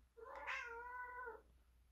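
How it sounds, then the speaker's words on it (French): A single drawn-out cat meow, close and clear, lasting about a second against a quiet room. "c'est mon chat qui miaule"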